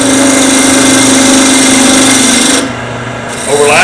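A wooden vase blank being turned down to diameter on a lathe, a loud continuous scraping rasp over the machine's steady hum, briefly easing off near the end before the tool bites again.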